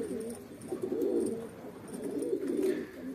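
Pigeons coo repeatedly in soft, rounded bursts, close by, on a snowy day, with a faint background of rustling and no talking.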